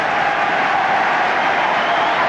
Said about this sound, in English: And the roar is because Sammy McIlroy is coming on